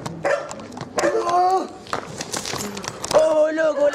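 A dog barks and yips repeatedly in short bursts, mixed in with loud, excited voices talking over it in a comedic mock news segment.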